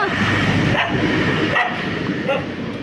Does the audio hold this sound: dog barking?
yes